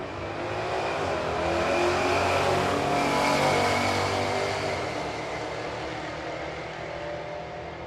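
A Circle D Camaro launches down a drag strip during a race-week event, its loud engine roaring steadily and building as it accelerates away, with no talk over it.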